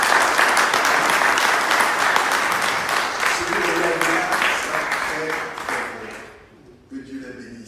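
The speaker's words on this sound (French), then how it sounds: "je peux, avec assurance, vous demander de les remercier en les applaudissant" Church congregation applauding together, a dense steady wash of clapping that fades over the last second or two as a voice begins speaking.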